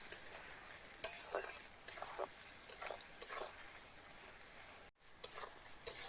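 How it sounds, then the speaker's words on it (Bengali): Ginger, garlic and onion frying together with salt in a pan, a soft steady sizzle broken by repeated scraping stirs of a spatula, close and quiet, with a brief pause near the end. "এবার আদা রসুন পেঁয়াজ একসঙ্গে ভাজা ভাজা করে নেব।"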